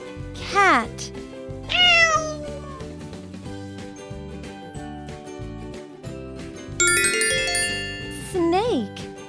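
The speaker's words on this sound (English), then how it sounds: "cat" A cat meows several times, short rising and falling cries over a bright, plinking children's tune with chimes.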